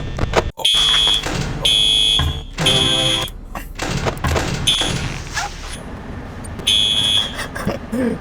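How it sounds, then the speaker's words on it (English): A dorm fire alarm going off loudly in repeated piercing electronic bursts, cycling on and off several times with thuds and room noise between the pulses. "the fucking fire alarm went off in my dorm"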